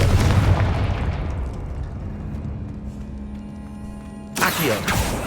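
Fiery Confringo spell blast from the wizarding game Hogwarts Legacy, a heavy booming burst that slowly fades into a low rumbling tail, followed by a sharp second impact near the end.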